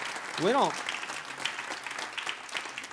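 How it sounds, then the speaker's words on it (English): Scattered audience applause at a business seminar runs under a rising voiced exclamation, light and fairly quiet clapping from a modest crowd that continues at a low level throughout. "Give yourselves a big hand clap."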